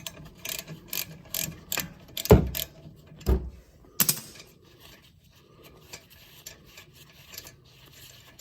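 A socket and wrench loosen a brake caliper bolt on a 2020 Toyota Supra during a pad swap, with a run of quick ratchet clicks, a few louder metallic knocks and scrapes, then quieter fiddling, all close by with no talk.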